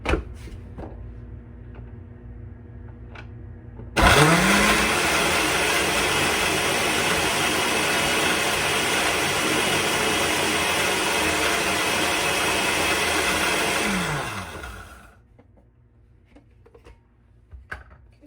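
A blender starts abruptly and runs loud and steady for about eleven seconds with a harsh whirring roar, then winds down to quiet, with a few light knocks.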